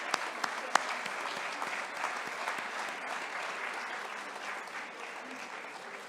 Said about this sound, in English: If you want to stand up for a round of applause,